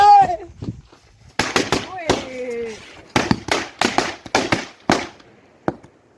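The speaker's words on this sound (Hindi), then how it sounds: "वो लक्ष्मी बम है, ओए बड़े बड़े बम है।" Lakshmi bomb firecrackers going off during Diwali in a village, a series of sharp loud bangs at an irregular rhythm, with excited voices shouting and talking between the blasts.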